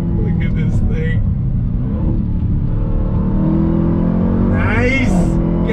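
A 2021 Dodge Durango Hellcat SUV's engine rumbles loudly under throttle and rises in pitch as it accelerates, while a voice speaks over it.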